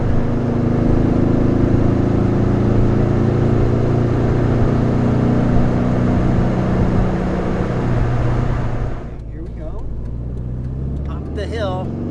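A Porsche four-cylinder engine idles after a cold start, a steady, fairly loud low rumble with a slight lope. It drops quieter near the end as a voice begins to talk over it.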